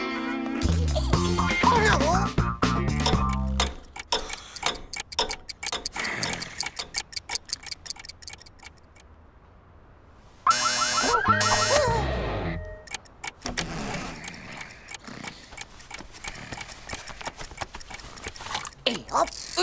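Alarm clocks in a cartoon ticking and clicking as they are wound and set, a dense run of mechanical ticks, ratchets and gear clicks with music and brief voices around it, dropping to near silence midway before a loud burst returns.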